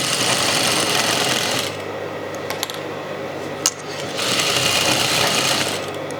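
Sewing machine stitching the hem of a dish towel, a steady loud motor whir that runs, pauses for a few seconds with small clicks, then resumes close up.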